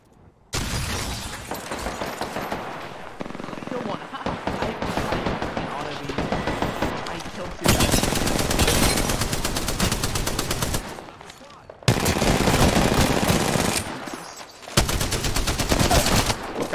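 Heavy, continuous automatic gunfire from an Apex Legends match, loud and near, with sustained bursts broken by brief pauses and talk mixed in.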